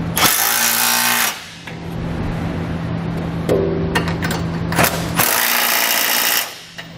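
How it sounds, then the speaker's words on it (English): Loud whirring bursts from a power tool driving a 3/4 inch socket onto flange nuts while fitting a Curt trailer hitch receiver to a 2019 Mazda CX-9, two long runs separated by a lower rattling stretch, close and without talk. "I'll come back with a 3/4 inch socket and tighten up all the flange nuts."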